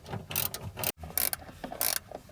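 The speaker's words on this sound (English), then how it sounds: "Ratcheting wrenches for the win." A ratcheting wrench undoing the rear seat bolts in a Mazda2, with loud close bursts of rapid clicking repeated several times and a brief pause between strokes.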